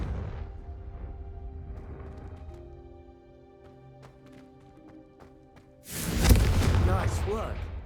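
A Confringo fire spell blasts out in Hogwarts Legacy, a sudden loud, broad fiery burst that follows a stretch of quieter ambient music and a spoken voice, then roars on for about two seconds.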